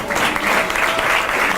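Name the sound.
audience applause for Jordán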